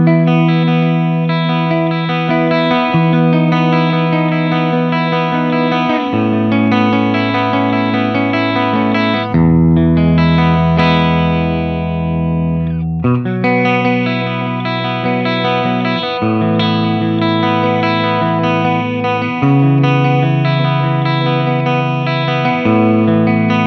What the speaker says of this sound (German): Also das ist jetzt schon mit sehr viel Durchsetzungskraft alles hier im Clean-Kanal.